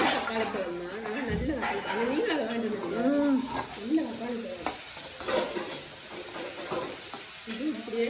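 Chopped tomato sautéing in a pan, a steady frying sizzle with stirring scrapes throughout, heard alongside ongoing talk nearby.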